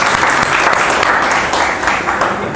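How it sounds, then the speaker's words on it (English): An audience bursts into dense, loud applause at a talk on karma, a continuous wash of many hands clapping close by with no speech over it. "You can clap for him."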